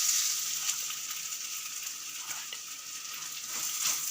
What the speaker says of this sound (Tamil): மசாலா எல்லாமே நல்லா வதங்கியாச்சு.